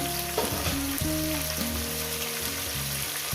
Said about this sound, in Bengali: চার পাঁচ মিনিট ধরে ভেজে নিই ভাজা হয়ে গেছে আলুটাকে